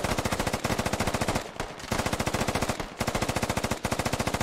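A machine gun fires long rapid-fire bursts in the military shooter game Squad, loud and close, with brief pauses between the sustained bursts and no talking.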